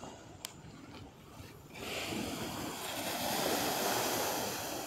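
Big sea waves break at Staithes, UK, a faint wash that swells into a broad roaring surge after a couple of seconds, with wind buffeting the microphone and a few clicks early on.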